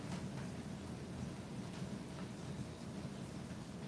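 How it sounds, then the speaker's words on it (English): Steady rain falls outside, a soft continuous hiss with a low rumbling undertone, faint and even throughout with no voices. "Oh, it's raining."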